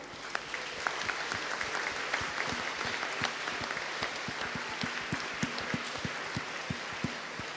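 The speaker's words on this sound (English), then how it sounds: "Let us all acknowledge his generosity and humor and great style with a huge round of applause." An audience at a leadership lecture gives a long, steady round of applause, dense clapping from many hands heard at moderate distance without pause.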